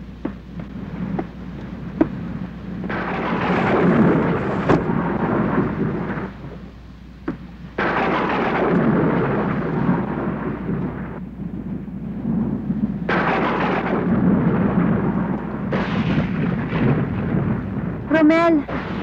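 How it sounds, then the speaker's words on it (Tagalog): Thunder rumbles in a stormy night scene of a Filipino action drama, several loud, rolling bursts swelling and fading over nearly twenty seconds with brief quieter gaps and no talk. "Takot kasi ako sa kulog at kidlat eh."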